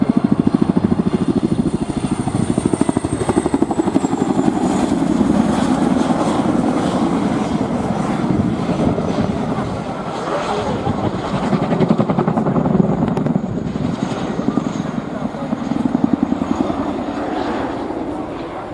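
A Royal Air Force aircraft performs a flying display at RIAT 2016 with a loud, continuous engine roar that sweeps and swells as it passes, under an announcer speaking over the public address.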